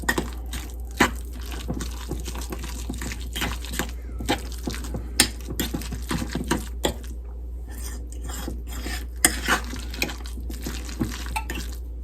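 Tuna chaffle batter is mixed in a bowl with a utensil, making irregular close clicks, taps and wet scraping over about twelve seconds, with no speech.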